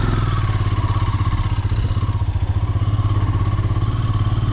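A motorcycle engine runs steadily near Srinagar in Kashmir, a loud close low throbbing idle with an even pulsing beat and slight mechanical clatter, no talking.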